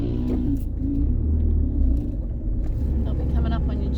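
Cars driving slowly over hard-packed, rutted sand dunes, a steady low engine rumble with bumping, heard under close talk.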